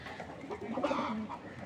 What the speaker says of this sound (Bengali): এখানে দিলাম এক জোড়া হোয়াইট গ্রিজেল জোড়া, হ্যাঁ দেখুন শেপ দেখুন কবুতরের